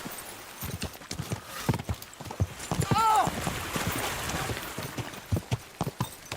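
Horse hooves clip-clop across the ground in the video game Kingdom Come: Deliverance II, a steady close rhythm of knocks with a brief whinny partway through.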